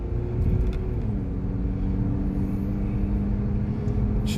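Interior of a 1999 Honda Accord with a new transmission driving and shifting gears, a steady low engine and road drone with one shift where the engine pitch drops, and no talk.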